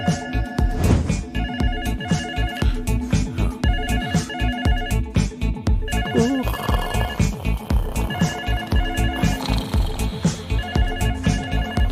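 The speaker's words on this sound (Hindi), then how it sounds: "फोन बज रहा है, सुनाई नहीं देता क्या तुम्हें?" A phone rings insistently in a South Indian detective film scene, with a repeating electronic ringtone pattern pulsing throughout, loud and close, while faint voices come and go beneath it.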